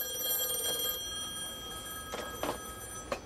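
Telephone in a naval personnel detailers' office ringing in a short electronic burst, followed by further faint chirps and ticks against a quiet, hissy office background.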